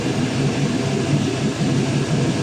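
A Chevrolet 5.3L LS V8 truck engine idles at about 700 RPM on a test stand, a steady close low rumble with a faint pulsing throb and no voices.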